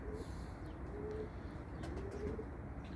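Pigeons coo softly in low, repeated murmurs over a steady rushing background, distant and faint.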